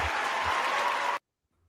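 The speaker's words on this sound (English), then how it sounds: "Oh, that was applause" Studio applause sound effect on a football podcast, a dense burst of clapping lasting about a second before cutting off abruptly into silence.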